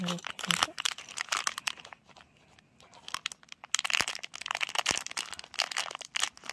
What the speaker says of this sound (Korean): 비닐뜯기